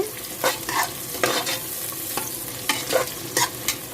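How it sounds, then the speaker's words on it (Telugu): Onions frying in a pan for meal maker pulao, with a continuous sizzle broken by repeated spoon scrapes and stirring clatters in an irregular rhythm, close and moderately loud with no talking. "ఉల్లిపాయలు వేగుతున్నాయండి"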